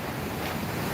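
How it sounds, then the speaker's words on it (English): The Great Falls in Paterson, New Jersey, pours foamy water in a steady, dense roar heard up close, with no talking over it. "That's the falls right there."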